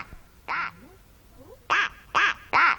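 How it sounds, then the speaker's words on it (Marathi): A duck quacks four times in a children's story, one call then a quick run of three, loud nasal quacks close up over faint background noise. "वाटेत त्यांना भेटलं एक बदक."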